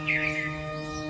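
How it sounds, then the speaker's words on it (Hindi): Morning birdsong outdoors: one short bright chirping call rises briefly near the start over a steady electronic hum, faint and a little distant, with no one talking. "सुबह हुई है, पक्षियों की किलहोल, ये भी प्राकृतिक साउंड संगीत।"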